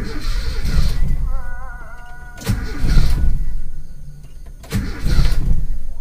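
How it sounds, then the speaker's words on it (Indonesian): A Toyota Kijang fitted with a smaller idle jet cranks with difficulty and struggles to start, in three repeated bursts of close, loud, rough engine churning separated by short lulls. "Pas saya start, nah, sulit ya teman-teman, tidak cegreng seperti biasanya ya"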